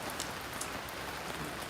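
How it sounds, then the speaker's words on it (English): Steady rain falls on a surface outdoors, a dense, even hiss with scattered brighter drop ticks, continuous and fairly close throughout. "Good rain."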